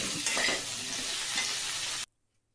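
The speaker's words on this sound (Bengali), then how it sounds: "পিঠ পিঠ করে ভালো করে লাল লাল করে একটু ভেজে নিলাম" Boiled elephant foot yam being stir-fried in a pan, a loud steady sizzle with scraping stirring that runs for about two seconds and then cuts off abruptly into silence.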